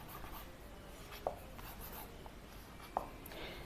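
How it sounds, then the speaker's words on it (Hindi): Chalk or marker writing a question on a classroom board, a soft scratchy rubbing with two brief sharper taps, faint against low room hiss and heard alone without talk. "सवाल हम लिखते हैं।"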